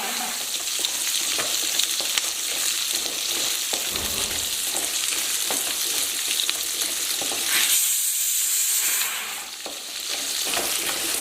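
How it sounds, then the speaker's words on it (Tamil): Curry leaves and onions frying in a pan for Kumbakonam-style onion sambar, a loud continuous sizzle with intermittent spatula scrapes, easing briefly near the end before picking back up, close with no talk. "கருவேப்பிலை போட்டு வெங்காயம் போடுறேன். போட்டு நல்லா வதக்கிட்டு வதக்கணும்."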